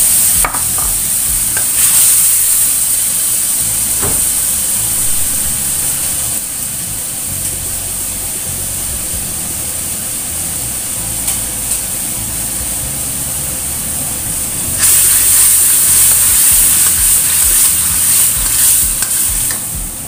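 Ground spice paste frying and being stirred in a hot pan while cooking white glass noodles with egg, a loud steady sizzle with scraping stir strokes throughout, growing louder toward the end.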